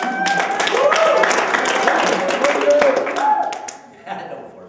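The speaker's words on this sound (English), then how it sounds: "go back to your seat to your thunderous applause" An audience bursts into loud clapping that carries through most of the passage and fades toward the end, with voices and a few tonal sounds mixed in.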